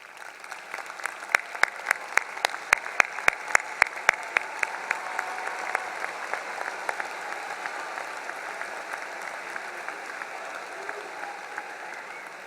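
A commencement crowd at Sam Houston State University applauds graduates' families, sustained dense clapping from a large hall audience, with sharp, distinct claps standing out early on and a steady wash of applause continuing throughout.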